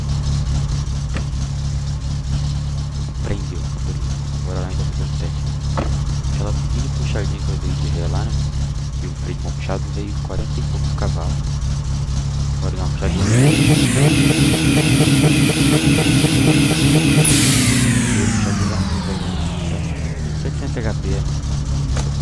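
A turbo Satsuma car engine in the video game My Summer Car idles with a steady, low drone, then revs hard and fast, holds at high pitch for several seconds and winds back down; a voice seems to be heard now and then.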